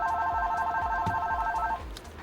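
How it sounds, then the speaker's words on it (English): A telephone rings with a steady electronic warble that lasts nearly two seconds before stopping, sounding moderately close, with soft background noise and no speech. "I need to answer the phone."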